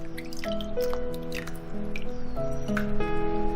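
Soaked Sichuan peppercorns rinsed by hand in water, with close, gentle sloshing, drips and squishy splashes continuing throughout while a faint tonal hum sits underneath.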